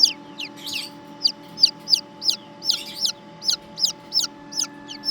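Newly hatched pheasant-chicken hybrid chicks peep in a steady series of high, sharp chirps, close and clear, over a constant low hum in a home hatching setup with hens nearby.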